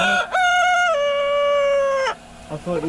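A rooster crows loudly and close by, one long sustained cock-a-doodle-doo, followed by a few brief clucks at the end.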